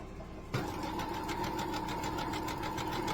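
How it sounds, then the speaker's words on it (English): A sewing machine stitching a quarter-inch fabric seam starts suddenly and runs steadily, a fast rhythmic mechanical whir and clatter close by, with no talking. "let the sewing machine do its job"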